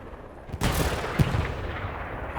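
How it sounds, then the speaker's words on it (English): In the Hell Let Loose tank battle on the Kursk map, an IS-1 tank fires at German Tigers: two heavy booming shots about half a second apart, each trailing into a long rolling echo. "IS-1's taking some shots here."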